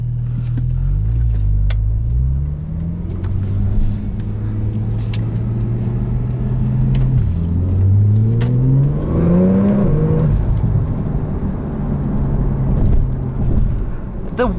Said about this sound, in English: The way this thing rockets out of corners is just absolutely insane.